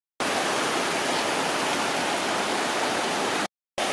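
Roaring waterfall tumbling over mossy rocks, a dense steady rush of falling water, loud and close, running unbroken except for a brief gap near the end.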